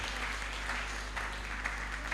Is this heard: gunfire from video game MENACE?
no